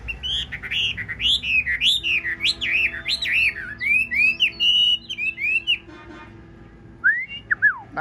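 A caged hwamei songbird sings loud and close, with rapid runs of bright whistled notes that rise and fall, a short pause, and then a brief return of the phrases.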